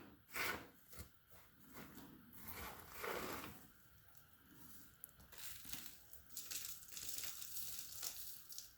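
Potting soil being mixed by hand for a Pink Princess Philodendron, giving close, irregular rustling and crumbling scrapes with no talk.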